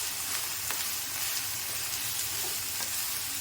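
Onion and banana stem sautéing in a pan, giving a steady, fairly quiet sizzle with faint stirring scrapes and no voices.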